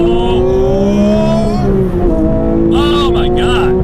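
A 2022 Porsche GT3 Touring engine with auto blip revs hard toward 9,000 rpm, a loud continuous rising wail with shifting pitch and a brief dip near the middle, close and dominant.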